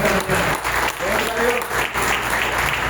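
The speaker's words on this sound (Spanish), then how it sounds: "Aplaude el nombre de Dios." A church congregation breaks into loud, close applause during a service, a continuous thick clatter of hands with a few brief dips, and a voice speaks underneath.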